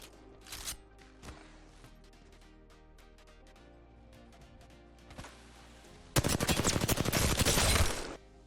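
Gunfire in Apex Legends on Nintendo Switch as a training dummy is shot, with scattered single shots early, then a loud sustained burst of rapid automatic fire near the end, without talk.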